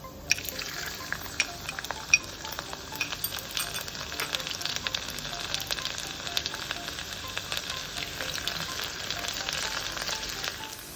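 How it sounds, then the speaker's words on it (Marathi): Cumin seeds and garlic frying in hot oil for raw mango rice, a steady crackling sizzle dense with sharp pops and spits, close and unbroken, with no talk. "जिरं झालं की लसूण घालणार"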